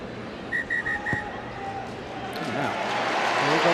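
A referee's whistle at a women's rugby union match, France v Italy in the Women's Six Nations, gives four short, clear blasts over a steady stadium crowd murmur that slowly grows louder, with commentary voices faintly present.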